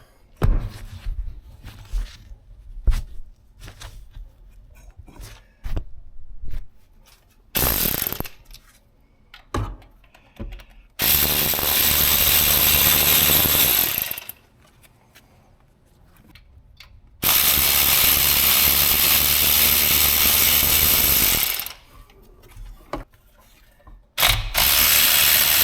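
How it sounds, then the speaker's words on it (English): A cheap cordless ratchet whirs in loud sustained bursts of several seconds each while removing engine parts from a V6 Chevy Tracker, separated by quieter clicks, clanks and handling of tools. "Cordless ratchet"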